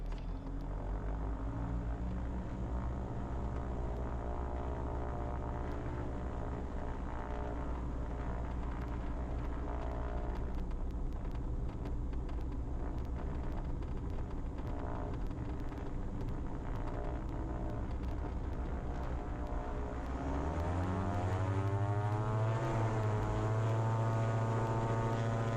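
A Diamond DA42 twin-engine airplane runs up on runway 16 for takeoff, its steady loud engine drone filling the cabin before the pitch rises as power increases near the end, with no talking.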